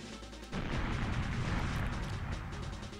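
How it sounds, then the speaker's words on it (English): Explosion in the N64 game GoldenEye 007, heard as a sudden loud burst that becomes a sustained roaring rumble lasting several seconds. "background explosions make everybody look cooler"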